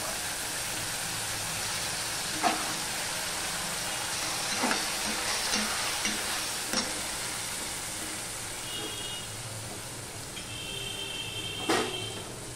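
Chopped bottle gourd going into hot oil already tempered with ginger gives a steady, moderate sizzle and frying hiss that runs throughout, broken by a few soft clinks and stirring knocks. No one speaks.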